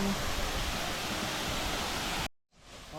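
Ulan-Ulan Falls in Sampao, Almeria, Biliran roars as a loud, steady rush of falling water, then cuts off abruptly; after a brief silence a fainter wash of water returns with a voice faintly audible.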